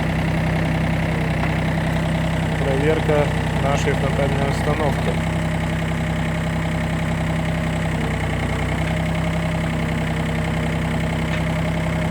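A Yanmar F7 Japanese mini tractor with a front loader idles with an even, low, steady hum and a faint mechanical clatter. Someone talks over the engine throughout.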